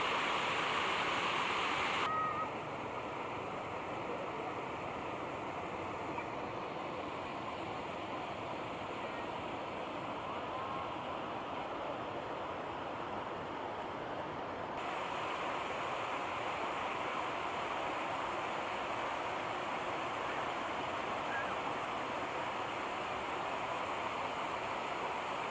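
Water pouring over the Sibalom dam on the Tipulwan river, a steady broad rushing roar that stays loud and unbroken throughout, with no voices over it.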